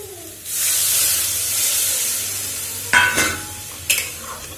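Curry with salt, turmeric, chili powder and cumin powder hisses and sizzles steadily in a pan close by, with two sharper clanks of stirring toward the end and no voices.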